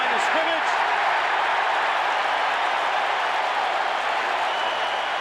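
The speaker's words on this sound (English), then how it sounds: "You know it by the crowd" Stadium crowd at a 1985 NFL football game between the Chicago Bears and San Francisco 49ers, a steady broad roar of many voices filling the whole stretch at even loudness, with no clear single voices standing out.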